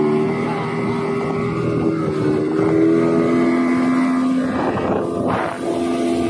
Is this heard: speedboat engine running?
yes